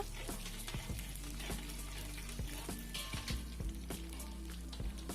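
Chana dal and urad dal roasting in hot oil for a hotel-style kara chutney, giving a steady low sizzle with scattered small pops and stirring clinks close by.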